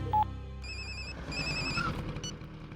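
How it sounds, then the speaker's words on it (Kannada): A telephone rings with a repeating electronic ringtone pattern, clear and fairly close, after a brief beep at the start, with no voices over it. "ಫೋನ್ ರಿಂಗ್ ಆಗ್ತಿದೆ, ರಿಸೀವ್ ಮಾಡ್ತಿಲ್ಲ."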